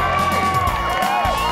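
A crowd cheers and shouts encouragement for a competitor at the 2014 CA-NV AWWA tapping competition, a loud, close burst of voices with whoops.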